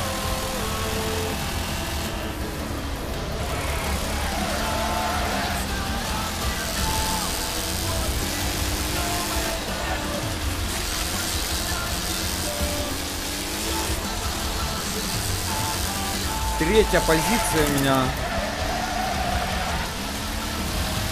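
A race car's engine drones and revs through corners in the racing game Wreckfest, steady and fairly loud, with someone talking over it.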